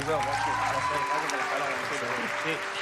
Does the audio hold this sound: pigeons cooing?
no